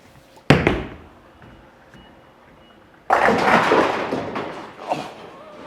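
A bowling ball, a Harsh Reality Pearl, rolls down the lane on a tenth and final shot, then crashes loudly into the pins in a long, broad clatter, after an earlier sharp thud of the release.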